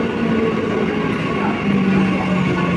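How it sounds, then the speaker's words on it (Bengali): A Kalyani Simanta local train in motion, a steady loud low rumble with rolling wheel noise and faint tonal hums throughout, with no voices. "তো এটা হচ্ছে কল্যাণী সীমান্ত ট্রেন, তো এটা ধরে আমি যাবো এখন ব্যারাকপুরে।"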